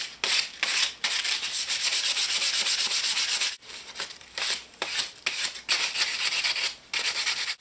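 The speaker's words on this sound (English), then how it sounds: "Just a couple of minutes with 180 grit sandpaper makes all the difference." A carved wooden spoon gets worked over with 180 grit sandpaper: close, loud, rasping strokes in long steady runs broken by short pauses, with no voices.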